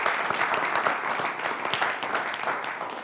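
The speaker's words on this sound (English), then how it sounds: "give these guys a round of applause because" Audience at an entrepreneurs' business event giving a round of applause, continuous close, loud clapping with dense, slightly uneven texture throughout.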